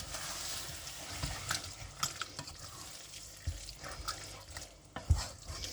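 Stirring and scraping in a pot as tomatoes are mixed into simmering beef mince, soft wet bubbling, irregular clinks and knocks of a utensil against the pan, close by, no talking.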